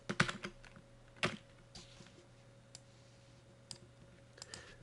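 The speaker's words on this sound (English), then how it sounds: "We type a word." Keys on a computer keyboard are tapped in a few short, sharp clusters to enter a single word, with quiet pauses between bursts and a faint steady hum beneath.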